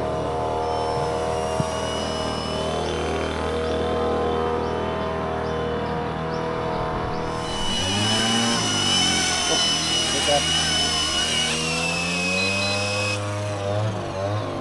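A small MD500 RC model helicopter's motor whines steadily throughout at an airfield, rising in pitch partway through as it speeds up, with voices talking over it.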